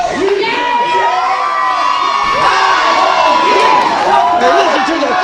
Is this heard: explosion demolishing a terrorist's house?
no